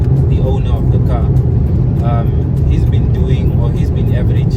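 A Volkswagen Golf 7 TSI cruises at 120, giving a loud, steady low road and engine drone from inside the cabin while someone talks over it.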